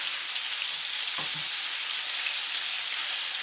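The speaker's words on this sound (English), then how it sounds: "Try to brown up the turkey sausage." Turkey sausage browns in cooking oil in a pan for a stir fry with bell peppers and onions, giving a steady, close, even sizzle throughout with a brief soft stir or movement in the middle.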